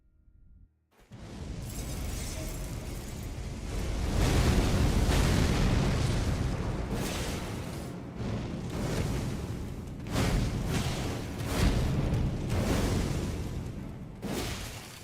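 Messmer's flame attack in Elden Ring erupts in a series of loud, roaring fiery explosions, with repeated booming bursts and crackling blasts pulsing over about fourteen seconds.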